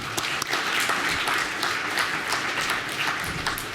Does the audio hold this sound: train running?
no